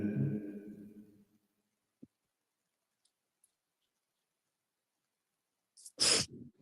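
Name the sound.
sneeze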